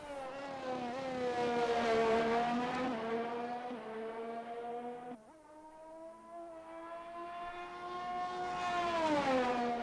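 Race cars lapping Spa in a sim racing video game, a loud high-revving engine whine rising and falling through gear changes, with a brief dip and upshift midway, close and alone.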